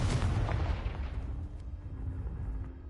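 A Confringo fire spell from Hogwarts Legacy on PlayStation 5 fires off in a loud, booming burst of blast noise right at the start. It then rolls and rumbles down into a low, fading roar, with no one speaking.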